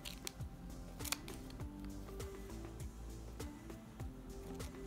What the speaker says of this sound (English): you're gonna take your scissors and you're gonna cut this flap here